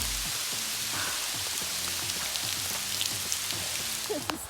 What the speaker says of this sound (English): Oh, it's hailing harder now.